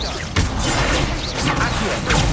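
Incendio fire spell cast in Hogwarts Legacy, a loud whooshing burst with crashing impacts and a dense roaring wash, with a voice briefly heard over it.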